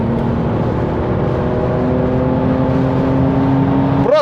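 Toyota Cresta JZX90 Tourer V accelerating on a road, engine droning loud and close with steady rising harmonics, a brief rev flare at the end.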